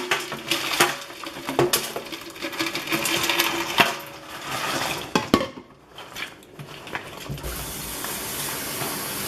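Ice clinks and rattles in a pitcher, irregular close clatters and knocks with scraping and a brief pause partway through, no talking.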